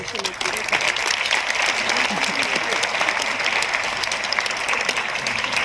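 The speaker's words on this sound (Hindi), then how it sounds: "तालियां बहुत कम है।" Sustained applause from a sizable crowd at a state teachers' award ceremony, dense and steady clapping that continues throughout, with a voice faintly present underneath.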